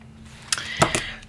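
Pen writing on paper: a few short, scratchy strokes close by after a quiet moment, with no one speaking.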